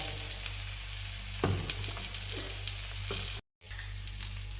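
Mackerel frying in a pan, a constant close sizzle and crackle with a few scraping stir sounds, briefly cutting out near the end before resuming, no voices.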